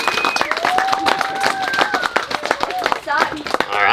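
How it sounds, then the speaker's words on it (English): Guests at a wedding ceremony clap in a round of applause, scattered close-up claps mixed with whoops, cheers and talking voices over a few seconds. "Another round of applause."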